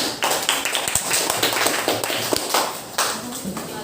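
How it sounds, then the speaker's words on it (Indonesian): Applause from a classroom audience after a student group presents its discussion results, a dense burst of many hands clapping close by that carries on steadily for several seconds. "Tepuk tangan dulu."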